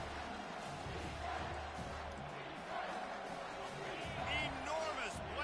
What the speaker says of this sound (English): Third down, and this crowd is bringing down the house.